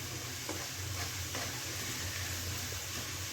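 Garlic frying in oil in a pan for home-style chilli chicken, giving a steady, close, even sizzle with faint stirring scrapes and no talking.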